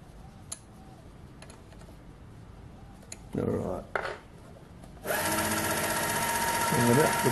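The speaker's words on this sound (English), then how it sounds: "Now we'll push with the tailstock and she'll go in." A drill bit fed by a lathe tailstock bores into metal carried on the carriage: a few light clicks and a short whir, then a loud steady machining drone starts partway through and runs to the end.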